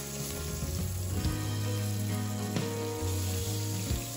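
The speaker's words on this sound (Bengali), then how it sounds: "মাছটা ধুয়ে নুন হলুদ মাখিয়ে ভাজতে বসিয়ে দেবো" Fish rubbed with salt and turmeric fries in a pan with a steady, close hiss and crackle, while sustained instrument tones hum in the background.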